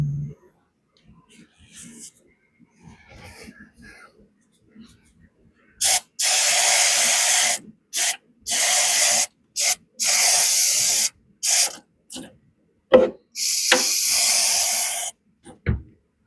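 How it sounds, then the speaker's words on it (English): Repeated hissing bursts of brake cleaner sprayed onto the oilers of a 1902 Reid engine, several short and long blasts separated by quiet gaps, close and loud. "brake cleaner works pretty good."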